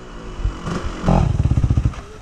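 A 125 cc enduro motorcycle on an off-road climb revs close by, then settles into a rhythmic, pulsing chug with clattering mechanical texture.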